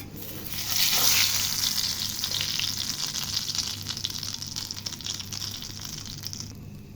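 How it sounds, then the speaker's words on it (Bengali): Eggs frying in a pan of hot oil for a breakfast khichuri meal, a loud close crackling sizzle that flares up early and then settles into a steady hiss. "চারটা ভেজে নেব সুন্দর ফুলেছে ডিমটা"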